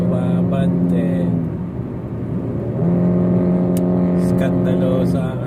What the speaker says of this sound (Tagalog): Maingay at tambutso.